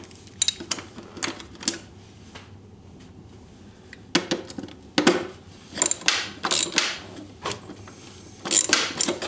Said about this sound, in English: So we'll take this plate off. There's two Torx T30 on the bottom of it.